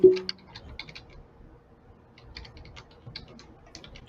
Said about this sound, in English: We can hear you typing, Andre.